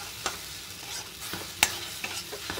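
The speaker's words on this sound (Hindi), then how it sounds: "अब इसको चलाएंगे ताकि ये बिल्कुल सूख जाए।" A spoon stirs ladoo mixture of ground almond and sugar in a hot pan, giving soft scraping sweeps with a few sharper clinks against the metal. The sizzle underneath is faint, and nobody speaks.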